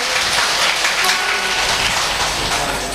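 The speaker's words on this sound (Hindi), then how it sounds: "एक बार जोरदार तालियां से स्वागत करेंगे।" Sustained applause from an audience in a hall during a Bhagwat Katha gathering at a temple, a dense, even wash of many hands clapping at once, steady and loud for the whole stretch.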